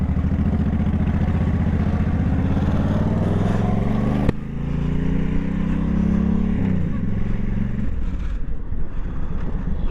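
A heavy motorcycle, around 700 pounds, ridden on the road with its engine droning loudly and rising through the revs, a sharp gear change midway, then the note climbing again under rushing wind buffeting the microphone.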